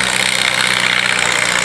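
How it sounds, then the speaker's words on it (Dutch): A Fordson Major tractor engine runs at a steady idle, a close, continuous low chugging rumble with no talk over it. "inderdaad de trekker nu op de baan met op de bok vandaag Erwin"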